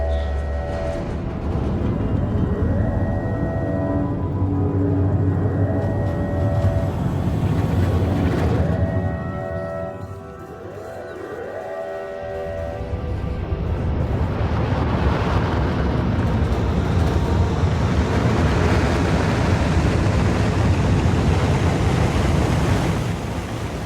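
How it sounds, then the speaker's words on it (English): Rocket launches in the video game Factorio roar as a loud, sustained rumble that dips briefly midway and then swells back into a dense, steady thunder. "That was a great pattern for the rocket launchers to launch in."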